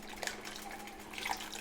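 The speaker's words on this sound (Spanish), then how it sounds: "Le agregué 4 copas de agua." Four cups of water pour into a pot for making champurrado, a soft, continuous splashing trickle with a few brighter drips, fairly quiet and heard alone.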